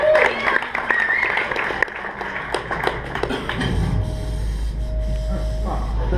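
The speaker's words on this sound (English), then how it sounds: "round of applause" Audience applause at a Hollywood Improv comedy show breaks out over a voice, with scattered claps early and a low rumble of crowd noise building under continuing talk.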